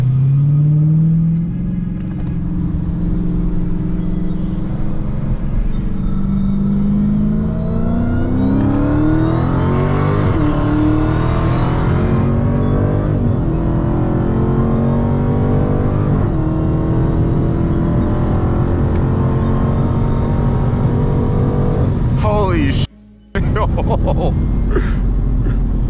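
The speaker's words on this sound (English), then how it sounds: "actually let you hit a supercharger whine out" A Dodge Hellcat SRT accelerates hard, with a loud rising engine roar and a high supercharger whine that climbs in pitch. The engine surges repeatedly over a long pull, then drops away briefly near the end.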